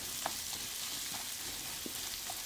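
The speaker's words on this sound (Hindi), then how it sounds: "इसे अब हम अच्छी तरह मसालों के साथ मिक्स करके 2 मिनट तक पका लेते हैं" A potato and spice mixture for fasting-day dosa sizzles steadily in a pan, with soft scattered clicks and scrapes of stirring over the constant close frying hiss.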